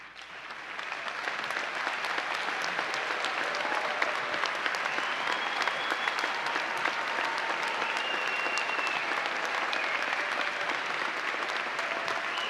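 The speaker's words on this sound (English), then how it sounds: "if you could please stand so we can give you a round of applause" A commencement ceremony crowd gives military members a long, sustained round of applause, dense clapping rising quickly and holding steady for over twelve seconds.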